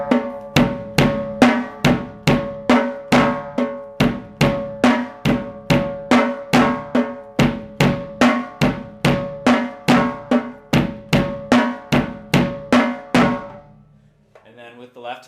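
A drum kit plays a steady grouping-of-eight sticking pattern with the bass drum, about thirty even, evenly spaced hits in a continuous pulse up close, stopping abruptly near the end before a faint trailing sound.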